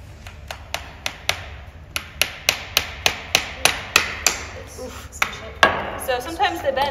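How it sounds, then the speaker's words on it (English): A hammer strikes a wooden stretcher frame in a steady series of sharp, close knocks, about two per second, followed by a few heavier, irregular blows and handling noise. "try to hammer it together better"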